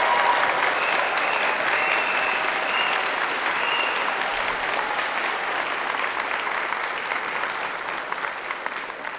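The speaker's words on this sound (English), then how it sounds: "Let's give them all a massive round of applause to thank and celebrate them." A university graduation ceremony audience claps in a dense, sustained round of applause that slowly eases in loudness toward the end.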